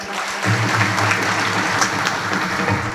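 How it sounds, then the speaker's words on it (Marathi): Audience at a devotional kirtan gathering claps loudly for a few seconds, a dense, steady burst of hand applause. "एकदा जोरदार टाळी वाजवा."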